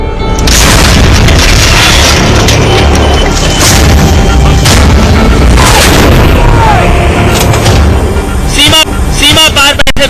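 An Indian Army howitzer fires, giving heavy, loud booms and rumbling blasts that fill the scene. Dramatic narration runs over them, and a sharp crack and debris-like crackle come near the end.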